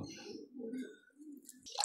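Soft, low cooing from a nearby pigeon, a couple of murmured coos followed by a faint rustle.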